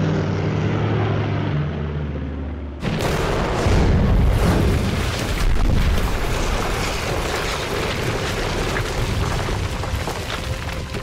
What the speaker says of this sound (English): And the bombers kept coming.